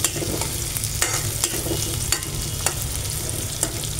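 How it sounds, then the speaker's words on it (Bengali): Pabda fish cooks in hot oil in a pan, a constant sizzle punctuated by regular sharp scrapes and taps of a spatula as it is stirred, no talking. "ভালো করে একটু নাড়াচাড়া দিয়ে মাছটি রান্না করতে হবে।"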